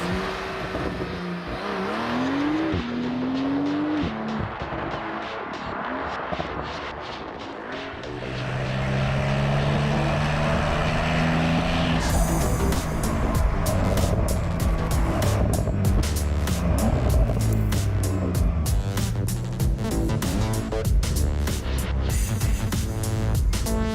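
A Porsche 911 Carrera 4S (992) engine revs and shifts through gears up close, then roars loudly at sustained high revs as it accelerates hard, no talking.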